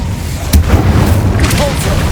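A fire spell being cast in Hogwarts Legacy, a sudden deep boom followed by crackling rumble that fades and returns with another burst, loud and close over a low continuous background.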